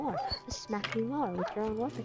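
Pet dog in the Minecraft video game whimpering and yipping, several short high whines over about two seconds, heard beneath someone talking.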